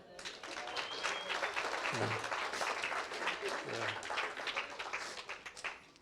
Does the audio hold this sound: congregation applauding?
yes